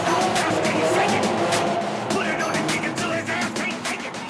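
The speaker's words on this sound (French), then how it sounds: "Des lignes droites où il peut faire rugir les 700 chevaux de son moteur." A 700-horsepower Lamborghini roars through a tunnel in Beirut, its loud engine revving in repeated bursts with sharp echoing reflections and some tire noise, close and dominant throughout.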